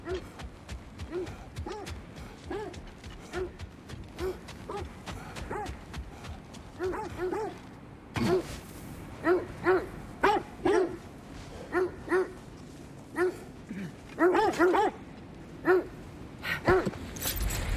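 Dogs barking repeatedly in the video game God of War Ragnarok, short sharp barks in irregular bursts over a steady game soundscape, some clusters louder and closer.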